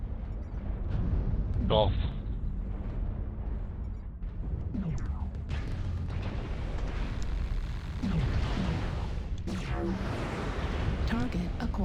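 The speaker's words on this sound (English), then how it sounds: "Artillery strike online." Artillery strike explosions in the mech combat game MechWarrior Online, heavy rumbling booms rolling one after another over a steady loud roar of battle noise, with brief radio-style voice callouts on top.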